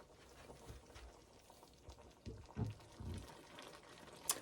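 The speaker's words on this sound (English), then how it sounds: "So this has come up to pretty much a pretty good simmer." A pot of short ribs braising liquid simmering on the stove, with faint, irregular bubbling and soft low pops, quiet and close.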